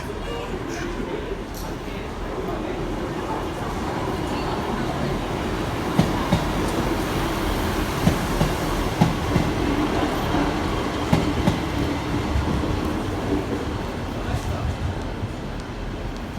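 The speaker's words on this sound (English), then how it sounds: "An East Midlands Railway service to Leicester." An East Midlands Railway train rumbles steadily past with continuous rolling and rattling noise and occasional clicks, moderately loud throughout.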